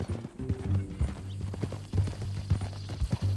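Horse hooves clip-clop in Red Dead Redemption 2 on PS5, a steady near gait of repeated hoof strikes over a low ambient game background.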